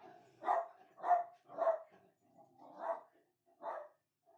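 Dogs barking indoors in a sequence of five distinct, moderately loud barks at a fairly regular pace, each short and separated by quiet gaps, with no talking.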